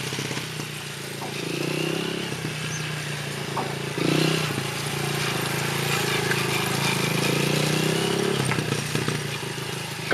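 A motorcycle engine drones steadily as it is ridden, rising and falling with throttle and punctuated by a few clatters and bumps, fairly close throughout.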